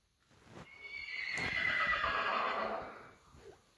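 A horse gives a long whinny that swells, holds and fades over a few seconds, heard alone at moderate distance with faint background noise.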